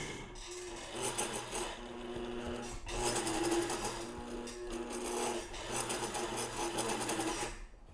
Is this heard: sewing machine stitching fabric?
yes